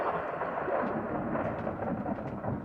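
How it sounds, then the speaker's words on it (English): Thunder rolls as a continuous broad rumble, steady and fairly loud for the whole stretch, without distinct sharp cracks and with no talking. "There was thunder, I got to tell you."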